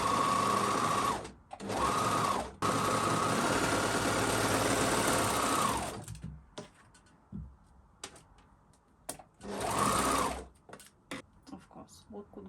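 An overlocker sewing machine stitches lace panties in loud, whirring bursts, three runs in quick succession, then quiet handling clicks and rustles before one more short burst.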